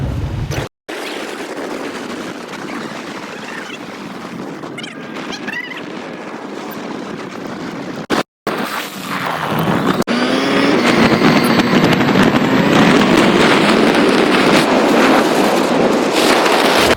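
A motorcycle rides along a plain road toward Chotila, with loud, steady wind buffeting and engine drone that drops out briefly twice and then grows fuller and rougher.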